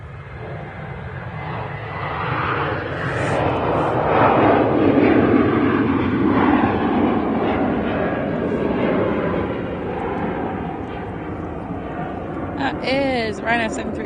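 Ryanair Boeing 737 jet at Manchester Airport, a rumbling engine roar that swells and fades over many seconds at moderate distance, with a person talking briefly near the end.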